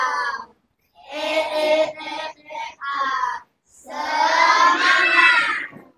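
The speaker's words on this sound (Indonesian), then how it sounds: "kita tepuk semangat dulu ya. Tepuk semangat Velocity." A classroom of children performs the rhythmic 'tepuk semangat' clapping cheer, chanting together in loud bursts broken by short pauses, ending in a long sustained group shout.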